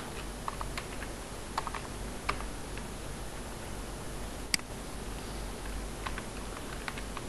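Computer keyboard typing while writing PHP code: steady soft key clicks in an irregular rhythm with a few sharper taps, quiet and close over a faint hiss.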